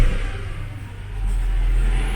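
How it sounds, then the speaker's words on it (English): A BMW E92 M3 engine revs up, its rumble rising under a thin whine from a squealing pulley that climbs with engine speed, close and continuous for a couple of seconds. "something that sounds like a supercharger, as in it's a vrrr noise and it goes with the speed of the engine"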